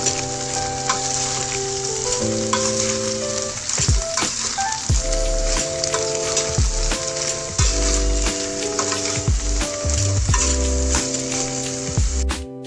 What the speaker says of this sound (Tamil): கிளறி போட்டுக்கலாம்